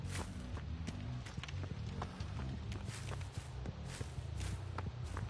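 Quick, light footsteps patter steadily as a character runs in Dead by Daylight, fairly faint, over a low background hum.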